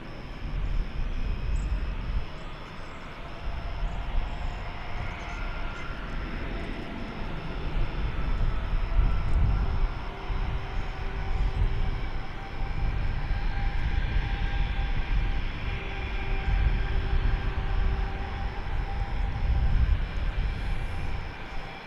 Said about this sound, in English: Is getting ready to roll down runway 18 left.